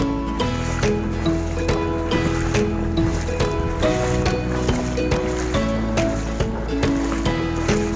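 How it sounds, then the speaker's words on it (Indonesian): A boat crosses about a kilometre of open sea along the coast of West Sumatra, its engine droning steadily and loud with a constant rumble under water wash and rattling, and no voices. "Masih lanjut lagi menyeberangi lautan sekitar lebih kurang 1 kilometer."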